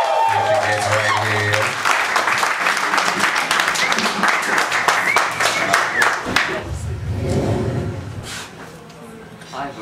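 An audience at a poetry reading applauds as a poet takes the stage, dense clapping that builds and holds, then trails off under a voice speaking.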